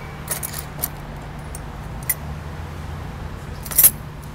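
A few light metallic jingles of spare keys for a 1973 Chevrolet Corvette, brief and scattered, with a brighter jangle near the end over quiet background.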